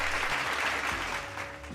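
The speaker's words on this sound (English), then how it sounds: "Applause, maybe?" A dense burst of crowd applause, loud and continuous with steady clapping throughout, used as a short sound effect with no talking.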